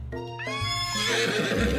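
A horse neighs loudly in a video game, a rising, shrill whinny lasting under two seconds with faint hoof clatter at the end, heard alone without talk.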